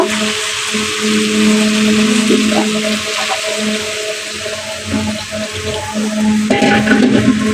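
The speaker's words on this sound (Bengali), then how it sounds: "কষানো হয়ে গেছে এখন আমি জলের পানি দিয়ে দিব" Water pours into a pot of sautéed, thickened curry on the stove, giving a steady, close rushing splash with bubbling and clinking underneath for several seconds.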